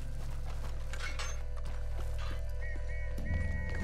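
Horse hooves clip-clopping at a walking pace in Red Dead Redemption 2, steady and close over a constant ambient game background, with a brief tonal jingle near the end.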